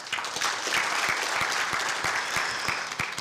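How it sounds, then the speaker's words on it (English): An audience at an Authorized Economic Operator conference claps in sustained applause, a dense even patter of many hands filling the room at full volume throughout. "please give a round of applause to the panelists"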